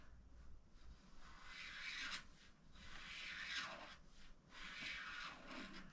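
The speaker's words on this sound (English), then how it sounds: "I'm just going to run in the direction of the drip, or run, which you can see is scraping it off." A razor blade scrapes along a paint run on the body of a 1950 Ford COE truck, giving close, quiet, repeated rasping strokes with short pauses between passes.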